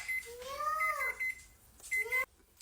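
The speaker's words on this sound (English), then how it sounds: "It's my timer." A kitchen timer beeps in short repeated bursts during ramen cooking, faint and close, two clusters of chirping tones separated by a brief pause.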